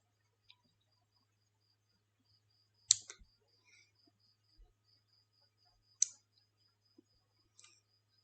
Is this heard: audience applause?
no